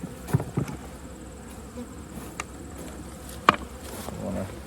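Honey bees hum around an open hive during an autumn inspection, a low, faint, steady drone with a few sharp knocks and clicks of hive equipment scattered through it.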